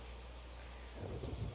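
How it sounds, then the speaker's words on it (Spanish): Steady, heavy rain and rumbling thunder fill the clip, with a deeper rolling surge of thunder building toward the end and no voices. "Solo escucho los truenos y la lluvia."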